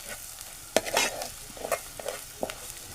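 Onion and vegetables sautéed in a pan, a soft sizzle broken by sharp scraping stirs of a spatula at irregular intervals.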